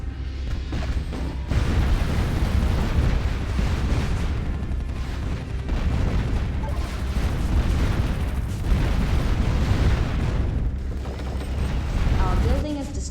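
A building destroyed in a video game: sustained rumbling blasts and heavy crumbling booms roll on, loud and dense, with brief lulls, and a voice speaks faintly underneath.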